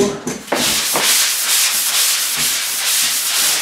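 Steady abrasive scraping of sanding drywall mud on a wall, close and continuous, with a few rhythmic strokes across a broad hiss.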